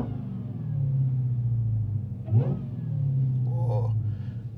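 A 1,025-horsepower Dodge SRT Demon 170 engine starts, rumbles and revs, heard from inside the car, the deep drone rising and falling in a couple of surges, without talk.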